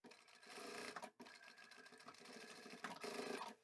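A sewing machine stitches the flap of a simple zippered pouch, running in steady continuous bursts close by, with a brief pause near one second before the motor picks up again.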